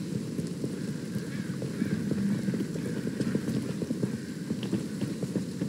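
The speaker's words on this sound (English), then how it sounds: "Can hear her running around." Running footsteps of a character in the online multiplayer game Veiled Experts patter as quick, steady steps under a constant low ambient game rumble, moderately loud throughout.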